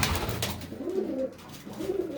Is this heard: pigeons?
yes